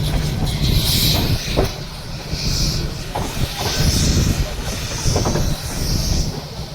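The Nilgiri toy train runs into Coonoor, with a steady rumbling roll of wheels and carriages close by, overlaid with recurring hissing bursts.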